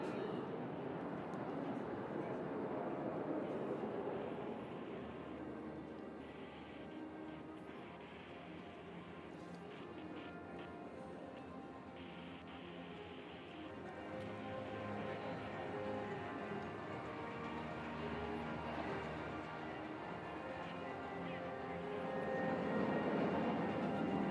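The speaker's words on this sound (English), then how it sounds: "There goes Wing Commander Arjun Patel, pulling up for a loop." Military aircraft pulling up into a loop during an Indian Air Force air show over Marina Beach, Chennai, a steady distant jet roar lasting throughout, swelling toward the end, with crowd noise and talk underneath.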